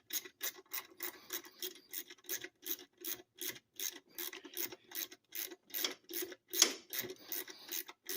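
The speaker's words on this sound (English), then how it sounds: "Now let's go ahead and get it threaded back into" Grinding-down metal bolt being threaded back into an engine block a quarter turn at a time, giving a steady series of close, rhythmic rasping scrapes, about two per second, alone with no voices.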